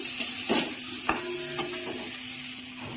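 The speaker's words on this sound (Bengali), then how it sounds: "জিরে বাটাটা দিয়ে এবার একটু ভালো করে কষে নেব।" Cumin paste being stir-fried in a pan for a hilsa fish curry with young brinjal, with a steady soft sizzle and a few scraping stirs of a spoon, close and moderately quiet.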